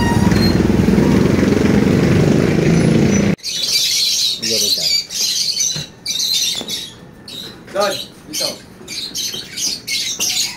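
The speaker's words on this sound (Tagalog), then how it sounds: "Yung mga ibon, malalaki, oh." Loud, harsh squawks from large birds burst out repeatedly and irregularly, with people talking nearby in between the calls.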